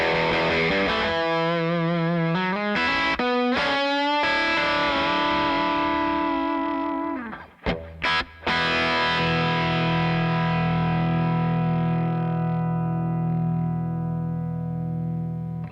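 Les Paul electric guitar played through heavy distortion with a harsh, overloaded top end: chords and strums ringing loud and sustained, a brief dropout near the middle, then a long decaying chord, no voices.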